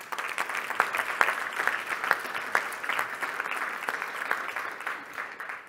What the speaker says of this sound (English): let's already give all together a round of applause for all the finalists